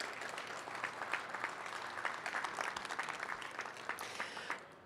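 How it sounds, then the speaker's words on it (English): A convention audience gives a final round of applause for agricultural startup pitch companies, dense crowd clapping that swells, holds for several seconds and tapers off at the end. "Let's give them all one final round of applause"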